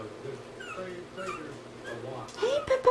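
Four-week-old Morkie puppies whimper in short, high, thin cries that rise near the end, heard close over a voice talking to them.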